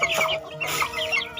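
Village-yard chickens cluck in short, uneven bursts close by, with a few rising calls over a quiet rural background.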